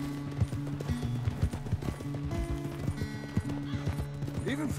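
A horse galloping in Red Dead Redemption 2, with rapid rhythmic clip-clop hoofbeats and a brief neigh, close and steady over game music and talk.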